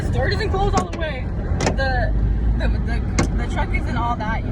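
Steady low road rumble from inside a moving pickup truck on the way to a kayaking spot in Hawaii, with a loosely closing door, while people talk and laugh over it.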